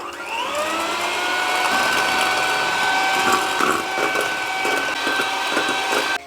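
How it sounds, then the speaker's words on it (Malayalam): An electric mixer whirs steadily as it beats egg whites with blue gel colour for macarons, a loud continuous motor whine that settles into a constant pitch, with faint clattering against the bowl. "ഇനി കളറും എഗ് വൈറ്റ് ഒക്കെ കൂടി നന്നായിട്ടൊന്ന് മിക്സ് ചെയ്തെടുക്കുക"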